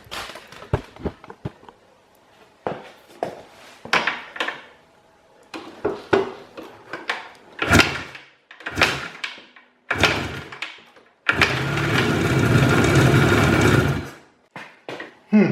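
Izh Jupiter motorcycle engine fitted with a replacement piston, with the choke fully on: a series of short, sharp bursts and knocks, then the engine catches and runs loudly for about three seconds before cutting back to brief thumps.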